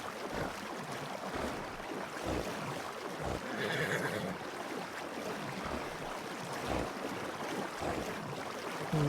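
Horse swimming through water in the video game RedM, heard as continuous churning, splashing water with surf-like washes, and a horse whinny partway through, fairly faint and with no talk.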